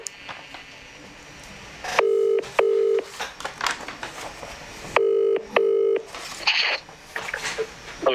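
A telephone call being placed during a live prize draw: short bursts of dialing tones followed by paired ringback tones repeating twice, separated by quieter room noise and faint voices.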